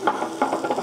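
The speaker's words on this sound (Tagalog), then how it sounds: "So magigisa lang tayo ng sibuyas." Onions sautéing in a pan, being stirred, with soft sizzling and several bursts of scraping stir strokes, close and moderately loud, no talking.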